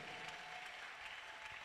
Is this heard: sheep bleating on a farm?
no